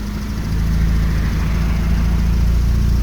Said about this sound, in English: compressor kicking in around when it reaches 30